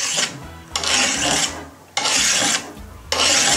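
Coarse steel file rasping along a knife blade from base to tip in the bush, four long strokes with short pauses between, close and loud with no talk.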